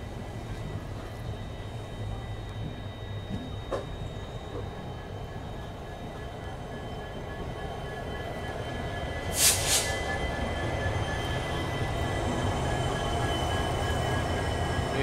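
The Rajasthan Humsafar Express rolls into Ajmer Junction with a steady low rumble of wheels on rails and a brief sharp burst of hiss or squeal partway through.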